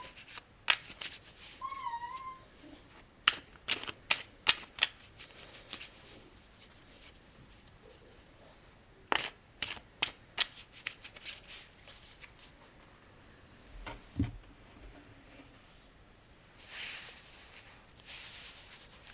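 Tarot cards shuffled for a reading, crisp close riffles and slaps of card stock in irregular bursts with quieter handling between them, no talk over it.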